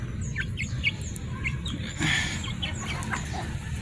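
Backyard chickens cluck and chirp in short calls while eating leftover rice, with a steady low outdoor rumble underneath and no talking.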